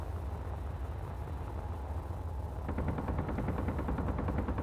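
Rapid gunfire strikes a player in the space survival game Space Engineers. A low rumbling engine drone runs throughout, and partway through a fast, regular rattle of shots starts up close and stays loud, with no voices.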